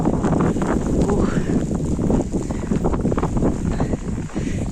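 Strong winter wind gusts across a frozen lake during a Moscow snowstorm, a loud, steady roar with buffeting on the microphone, a voice faintly under it.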